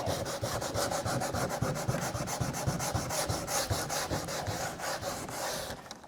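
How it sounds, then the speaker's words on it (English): Sandpaper rubs by hand across a wooden window frame in quick, even back-and-forth strokes, a close, rhythmic scratchy rasp with no talking. "I like to just get in there where I know the sandpaper is at the right"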